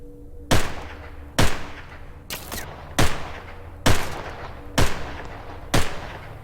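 Six sharp, loud video game gunshots fired at roughly one-second intervals over a low steady hum, each blast trailing off quickly.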